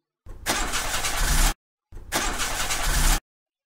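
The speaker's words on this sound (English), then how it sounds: "Hold on, I'll try the engine." A car engine in the game Mermaid Swamp cranks and fails to start, two loud grinding starter bursts of about a second and a quarter each, separated by a brief silence, with no engine catching.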